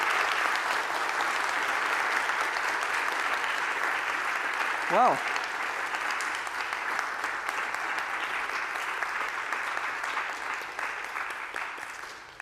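A conference audience gives a sustained round of applause, a dense, even wash of clapping lasting over ten seconds, with a brief spoken word partway through and the clapping tapering off near the end.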